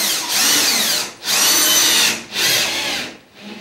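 A power screwdriver drives screws into a plasterboard ceiling in three loud, close whirring bursts of about a second each, separated by short dips, and a fainter fourth start at the end.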